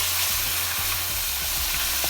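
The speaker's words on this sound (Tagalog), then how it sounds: "iprito lang natin yung isda" Fish frying in hot oil for escabeche, a dense, steady sizzle and crackle holding at an even level throughout, with occasional faint clinks of a utensil in the pan and no voices.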